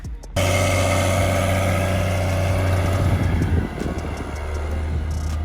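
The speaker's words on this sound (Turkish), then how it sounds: "şu an traktörün içindeyim" A tractor engine idles and then runs steadily while fertilizer is spread on a cotton field, a loud, even drone heard from inside the cab with a slight drop in level partway through.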